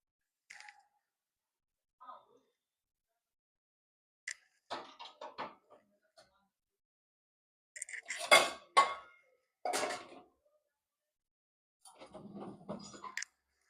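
Steel utensils and a pressure cooker clink and clatter in separate bursts as a dishwasher is loaded. The knocks are close and irregular, with a loud cluster in the middle and quiet gaps between them.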